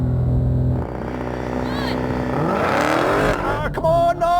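An American muscle car launches from the line with a rising engine roar and revving that climbs in pitch as it pulls away, with voices speaking over the noise.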